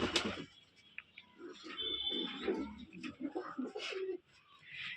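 Simi-colour pigeons coo in soft, repeated throaty bursts close by, with a few chirps and rustles mixed in, a sharp sound at the start and a quieter stretch near the end.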